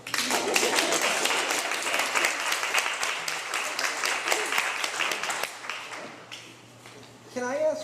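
An audience at an entertainment-industry career panel claps for the panelists: dense, sustained applause that thins and fades after several seconds before a voice begins speaking near the end.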